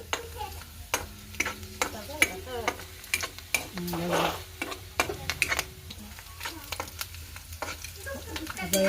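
Onion frying in a pan until reddish for a fresh coconut chutney, a steady close sizzle broken by repeated sharp scrapes and clicks of a spoon stirring against the pan.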